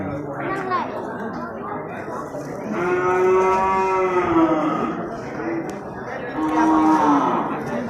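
Water buffalo lowing at a busy buffalo market in Bireuen, with two long, loud moos rising over a constant crowd chatter and background murmur.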